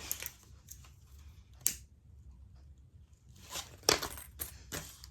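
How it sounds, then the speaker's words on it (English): Scissors trim excess zipper tape while a fabric bag is sewn, giving a handful of crisp snips and rustles close by, spaced out with quiet gaps between them and no talking. "We can trim away some extra zippers."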